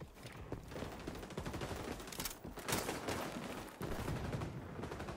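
Rapid bursts of automatic gunfire from the online shooter XDefiant on PS5, loud and continuous with brief gaps, the shots packed into dense volleys throughout.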